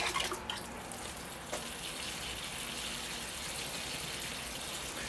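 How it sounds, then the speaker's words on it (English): Water pours steadily into a hemlock bonsai planting in a pot with no drainage hole, a continuous soft gushing and trickling that fills the clip with no talk. "I think it's time to give the planting a water"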